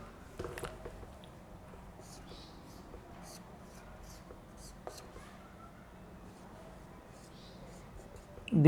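Pen or marker scratching quietly across paper while a chemical structure of maltose is drawn by hand, with soft intermittent strokes and a sharper tap near the end, faint and close.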